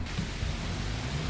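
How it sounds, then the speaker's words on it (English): Steady rain falling in the farming video game Farming Simulator 25, a dense, even hiss with low rumble underneath, continuous and fairly loud with no voices. "Well, the rain has started again."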